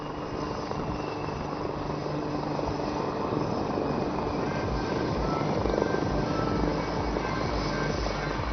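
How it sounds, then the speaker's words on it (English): Sukhoi Su-30MKI fighter jet touching down at the Aero India 2021 flying display, a broad steady roar of engine noise, loud and sustained, swelling slightly toward the end. "That, ladies and gentlemen, was the mighty Sukhoi 30 MKI."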